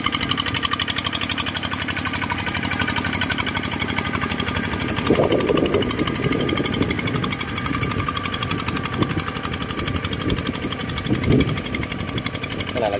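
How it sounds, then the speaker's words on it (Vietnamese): A GT155 walk-behind tiller engine runs steadily while tilling soil, a loud rattling mid-pitched chug throughout, with a person talking over it. "Đất đâu máy chạy nghe mệt mệt mệt mệt không."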